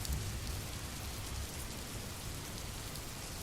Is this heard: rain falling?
yes